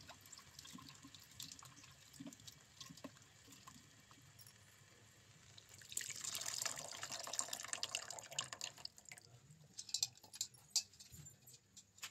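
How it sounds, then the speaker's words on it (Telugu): Tamarind water pours into a pan of fish curry (chapala pulusu) in a home kitchen, a soft steady splashing stream lasting about three seconds midway, set against faint, low kitchen background noise. "సో ఇప్పుడు వచ్చేసి చింతపండు వాటర్ అనేది అందులో పోసేస్తాను."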